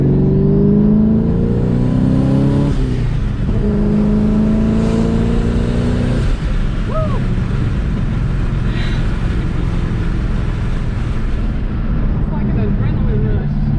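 A Saleen car engine revs and accelerates in a series of rising throttle pulls, loud and close, with rumbling exhaust and brief drops between gear changes while people talk over it.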